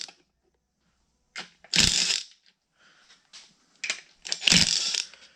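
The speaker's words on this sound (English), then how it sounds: "the next thing we're gonna take off is these valve covers. So just 7/16 bolts." 7/16 bolts being loosened and removed from a race engine's valve covers, with two loud ratcheting and clanking bursts and some softer tool rattling between them, close up and without talk.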